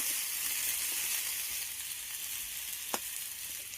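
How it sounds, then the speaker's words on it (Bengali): Potato and pumpkin sizzling in a pan as they are stirred, a soft continuous frying hiss with faint scraping and one brief clink near the end. "ঢাকাটা খুলে নেওয়ার পর আবার একটু নেড়ে চেড়ে দেবো"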